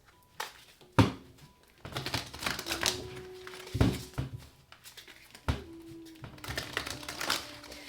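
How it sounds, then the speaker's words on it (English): Tarot cards being shuffled by hand, a series of close, uneven riffles and sharp taps in quick bursts, fairly quiet. "Okay, one more shuffle."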